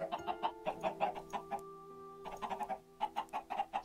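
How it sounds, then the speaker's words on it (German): Chickens spawned in the Minecraft video game cluck repeatedly in quick, bouncy bursts, a short pause breaking the run before the clucking picks up again, close and clear with no talk. "Stellen uns nach draußen und lassen ein paar Hühner spawnen."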